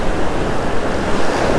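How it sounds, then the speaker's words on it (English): Ocean waves wash against the shore while striper fishing, a loud continuous roar of surf mixed with wind buffeting the microphone. "Waves are pushing them a little hard"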